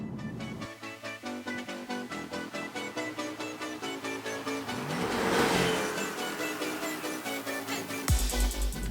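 A Porsche 718 Cayman with a 2.0-litre turbo engine revs hard, its pulsing engine note climbing and swelling before a sharp upshift near the end drops the pitch, loud and close.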